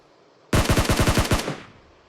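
A single burst of rapid automatic gunfire in the battle royale game PUBG, about nine close, loud shots in quick even succession lasting around a second, then a short fading tail.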